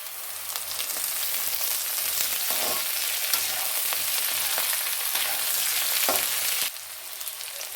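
Onion and capsicum sauté in a hot pan with a loud, dense, continuous sizzle, a few stirring scrapes and a sudden drop in intensity near the end.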